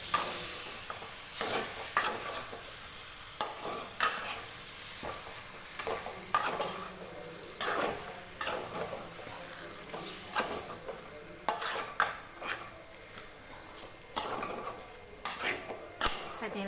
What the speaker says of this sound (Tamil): நல்லா மசாலா சிக்கனில் ஆட் ஆகிற மாதிரி நல்லா மிக்ஸ் பண்ணி விடுங்க.